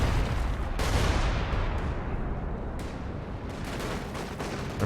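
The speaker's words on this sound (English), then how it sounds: "Oh, here comes a Panzerwerfer barrage" A Panzerwerfer rocket barrage in Company of Heroes 2 pounds down as a dense, continuous roll of blasts and booming impacts, loud and sustained throughout with no voices over it.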